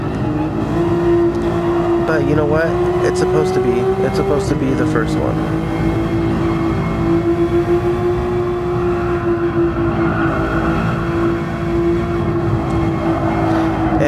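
A Nissan Skyline race car in Gran Turismo Sport holds a steady engine drone at near-constant pitch, with a brief rev shift midway, running continuously under someone talking throughout.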